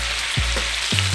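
Salsa-style chicken sizzling in a hot pan on the stovetop, a steady close frying hiss with a few soft low thumps as the pan or food shifts.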